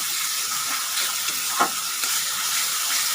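Tomato paste with spices frying and sizzling in a pan for a snakehead fish curry, a steady close hiss with a brief louder burst midway, no voices.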